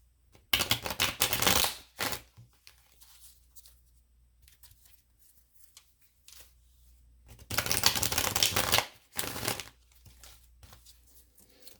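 Tarot cards being shuffled and pulled by hand, heard as two loud, brisk riffling bursts separated by quieter rustling and soft card handling, close up with no talking.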